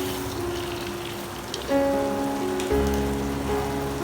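Green beans frying in a pan with minced meat (keema), a steady hissing sizzle throughout, joined partway by a low hum and tonal background sound.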